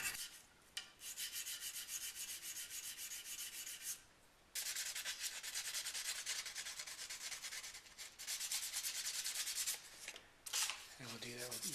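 Close, gritty rubbing of a guitar nut being sanded with progressively finer sandpaper, in repeated steady strokes broken by short pauses, with a soft voice briefly heard near the end.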